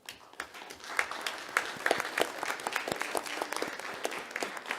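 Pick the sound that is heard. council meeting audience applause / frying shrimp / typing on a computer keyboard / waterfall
council meeting audience applause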